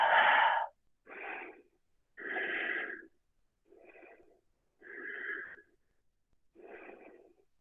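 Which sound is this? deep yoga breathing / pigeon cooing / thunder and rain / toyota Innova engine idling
deep yoga breathing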